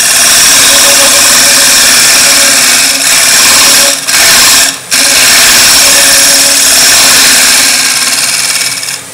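A wood lathe turning while a scraper tool cuts the workpiece, a loud steady motor whine with fine scraping texture that dips briefly twice midway, with no talking.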